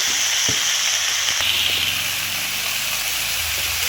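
Masala seasoned with salt and turmeric sizzles and hisses steadily in a hot pan, with a few sharp scraping knocks early on as the mixture is stirred; close and continuous, with no talking.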